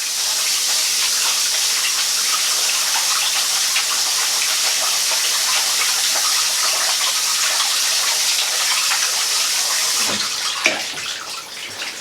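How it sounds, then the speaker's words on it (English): Tap water pours steadily over shredded potato held in a strainer, a loud continuous rush that breaks off near the end into a few drips and clatters. "So you put it in the strainer, give it a rinse."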